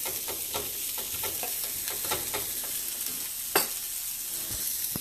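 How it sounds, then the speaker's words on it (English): Vegetables stirred in a pan over medium heat for sourdough pasta primavera: a steady sizzle broken by a run of quick scraping strokes, then a sharper clack near the end, with no talking. "Give that a stir."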